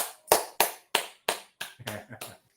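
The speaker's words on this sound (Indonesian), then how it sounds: "tepuk tangan untuk Dewi Syahara" A few people clapping at a youth worship service, about seven or eight separate, sharp claps in an irregular rhythm, close and sparse, with a voice murmuring briefly under the later claps.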